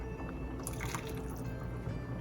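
Liquid poured into a bowl holding sesame oil and salt for wonton soup, a steady soft trickling splash running a couple of seconds, close and moderately quiet, ending in a brief clink.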